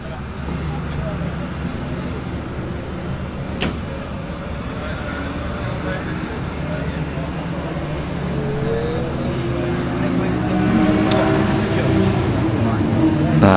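A classic race car with triple Weber carburettors idles and revs at a circuit paddock, a rough, throaty engine note building gradually louder, with people talking nearby over it.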